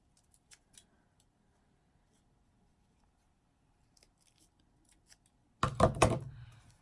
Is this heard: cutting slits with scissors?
yes